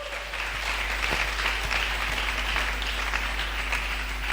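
A church congregation applauding during a French-language sermon: a steady, dense wash of clapping from many hands filling the room throughout, with no clear talking.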